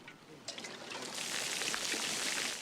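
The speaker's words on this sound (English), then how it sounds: "What are they pouring their water out for?" Water pours out of an upended military canteen in a steady splashing stream that grows louder and fuller, hissing onto the ground.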